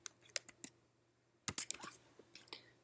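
Keys tapped on a computer keyboard in two short bursts of quick, crisp clicks, close and clear, with a brief pause between.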